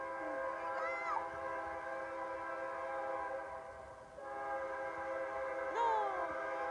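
Freight train carrying a caravan of migrants rolls steadily past up close, its loud sustained horn blasting twice in long wavering tones over the continuous rumble of wheels.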